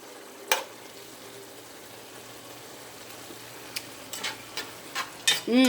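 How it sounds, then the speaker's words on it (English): Quiet frying hiss in a frying pan with scattered scraping and tapping of a utensil chopping up ground meat, a few sharper knocks near the end. "I'm just chopping the meat up more"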